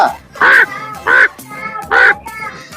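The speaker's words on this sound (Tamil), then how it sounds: "ஆ அங்க ஒரு காக்கா பறந்துட்டு இருக்கு" A crow caws three times in a steady rhythm. The calls are loud, close and harsh, with brief quiet gaps between them.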